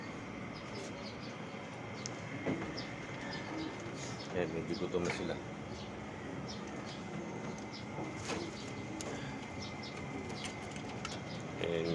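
Pet pigeons coo softly at feeding time amid light fluttering and pecking, close by, while a person talks over them.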